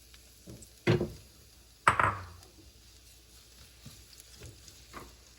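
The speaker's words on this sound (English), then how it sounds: "Now we'll add the onions." Chopped onions hit a hot pan for a Moroccan beef tajine, giving two sharp sizzling bursts with clatter, then a low simmering crackle.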